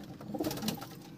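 Old desi pigeons in a loft give a brief, soft coo at close range over a faint background.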